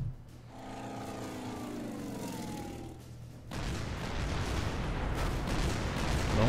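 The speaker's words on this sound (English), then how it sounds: "the shooting's starting" Aircraft engines drone with a rising pitch in the naval strategy video game Order of Battle Pacific, then heavy artillery and gunfire break out partway through into a dense, continuous, loud rumble of explosions.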